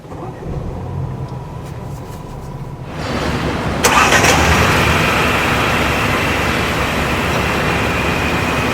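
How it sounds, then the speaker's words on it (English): A 2021 Mercedes CLA engine cranks and starts at about three seconds, then settles into a steady idle hum over background noise. "There you go, Mercedes starter."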